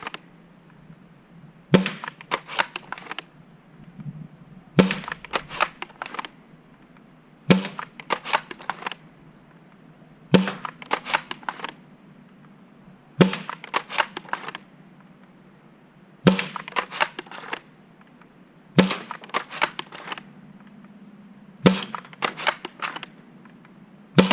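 A Nerf Worker Prophecy blaster with a rifled barrel fires ACC Gen 3 darts in eight evenly spaced volleys, each a sharp snap followed by a quick rattling burst, close and alone in a quiet room.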